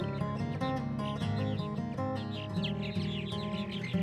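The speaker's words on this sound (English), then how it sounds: "On the day that I visited the marsh, the air was filled with the chatter of this beautiful species of swallow" Purple martin swallows chatter continuously at a marsh, a dense, busy stream of overlapping chirps and twitters close by.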